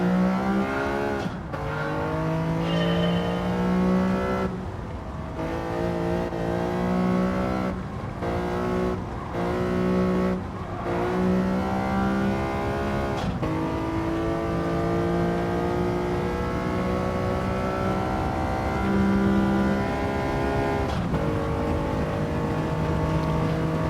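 A resto-mod car drives hard with its engine droning and shifting pitch, while tire noise and skidding run underneath at a steady loud level.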